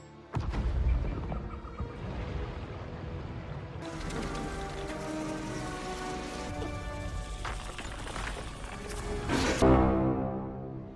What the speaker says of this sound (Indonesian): Kemudian Joachim pun meledakkan bendungan agar bisa membasahi Aguirre dan pasukannya.